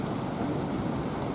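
Rain falls steadily in a dense, even hiss of drops on surfaces outdoors, with no speech.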